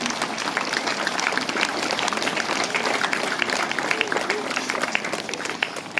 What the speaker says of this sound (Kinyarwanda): Pueri Cantores, ndagira ngo muntize amashyi dushimire aba baririmbyi ba Pueri Cantores.